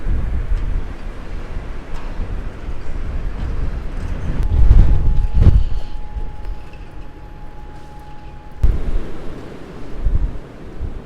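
Rough, rumbling wind gusts in Cumbria the day after Storm Isha buffet the microphone unevenly, swelling strongly midway and again near the end.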